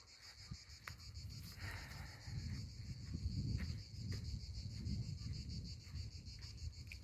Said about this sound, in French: qui ont besoin d'entendre le bruit des cigales.